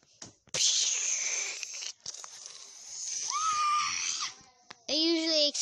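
A player character in Roblox screaming, with shrill, strained vocal bursts and raspy tearing noise that rise and fall over several seconds, loud and close, separated by short gaps.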